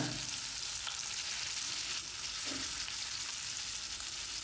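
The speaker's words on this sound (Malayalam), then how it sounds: "ഇനി ചിക്കൻ കഷ്ണങ്ങൾ ഇതാ ഇത് നമുക്ക് വറുത്തെടുക്കാം ഇനി ഇതും വെളിച്ചെണ്ണ തന്നെയാണ്" Boneless chicken pieces fry in coconut oil, a steady dense sizzle with a few faint stirring scrapes, close and even throughout.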